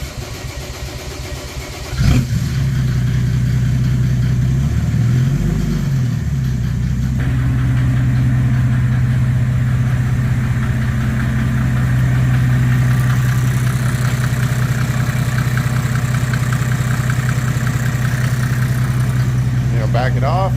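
Mercedes OM 606 turbo diesel, around a 1999, catches after a short quiet start and settles into a loud, steady clattering idle with a brief rev near the start, running close and unbroken for the rest of the stretch.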